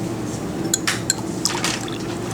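Liquid pours into a Buchner flask on a lab bench, a steady close splashing trickle with a few brief glassy clinks, set during a nutmeg trimyristin hydrolysis experiment.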